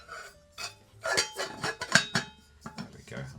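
Saucepans and a frying pan handled in a truck camper, with a string of metallic clanks, scrapes and rattles in irregular bursts, close by.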